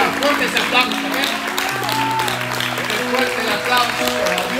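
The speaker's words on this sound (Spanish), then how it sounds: "Fuerte ese aplauso" A church congregation applauds, a dense wash of clapping hands with crowd noise, while a voice speaks and sustained tones, likely music, continue underneath.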